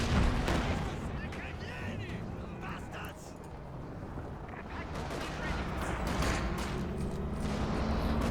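Tank cannon shots and battle gunfire in a World War II strategy game, sharp bursts in quick succession layered over a continuous rumble of combat noise.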